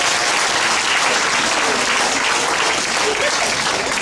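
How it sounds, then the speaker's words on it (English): Loud, dense audience applause at a youth awards luncheon, a steady wash of many hands clapping that holds evenly throughout without pause. "We want to give our hungry one last"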